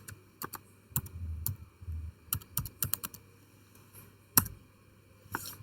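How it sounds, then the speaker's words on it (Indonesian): Keystrokes on a computer keyboard while an IP address is entered for a cloned Ubuntu server in VirtualBox, as scattered clicks in short bursts with pauses between them, close and fairly quiet, with no talking. "di sini kita ketikkan IP address"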